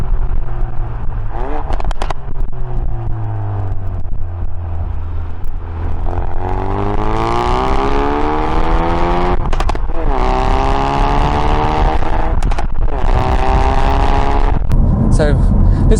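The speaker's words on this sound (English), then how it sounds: "especially now with these extra pops and crackles" A Ford Focus RS with an updated tune revs hard and drops off, its exhaust loud and close with sharp pops and crackles between the rising engine sweeps.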